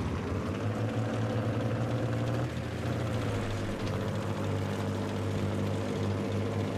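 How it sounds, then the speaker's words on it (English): A jet engine drones steadily in a Battlefield 3 battle, a dense, continuous roar with low humming tones that shift pitch partway through, loud and close with no talk. "We get a jet coming in, by the way."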